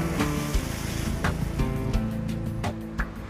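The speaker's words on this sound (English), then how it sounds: "See the surf line there, which is the waves meeting the river as it pours out." Surf breaks where the Rioni river pours into the sea as a boat crosses the estuary, a continuous rush of waves and water with a motor rumbling underneath and occasional louder splashes.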